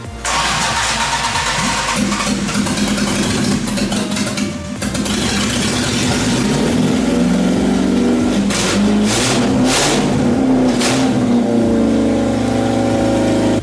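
A worn-out used engine freshly swapped into an old car starts and runs, with a steady mid-pitched drone, loud and close, then several sharp revs rising above the idle through the latter half.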